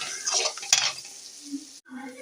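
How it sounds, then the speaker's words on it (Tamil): Onion and tomato masala with turmeric being stirred in a pan, a close scraping and sizzling stir with a spoon against the pan, a sharp clink near the start, then quieter sizzle in short bursts. "தேவையான அளவுக்கு மஞ்சத்தூள் சேர்த்து நல்லா இதை கிண்டி விட்டுக்கலாம்."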